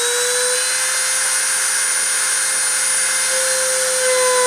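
A CNC spindle holds a high, steady whine near 30,000 RPM during deposition, with a constant, loud tonal hum and faint harmonics that persist unchanged throughout, with no talking.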